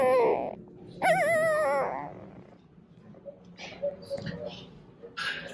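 Two-week-old puppies, including the runt of the litter, whimper and yip in high, wavering cries, close and loud at first, then fainter squeaks under people talking.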